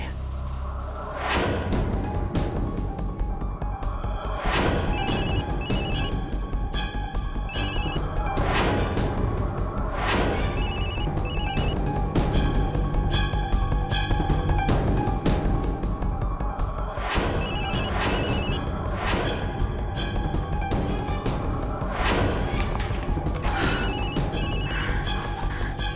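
A telephone rings repeatedly and goes unanswered, recurring bursts of bright ringing over a loud, continuous dramatic music score with occasional thuds and swooshes from a Hindi devotional TV serial.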